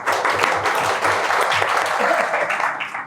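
Audience applause at a Karachi meetup, a full steady wash of many people clapping that stays loud and even throughout, with faint murmuring voices mixed in.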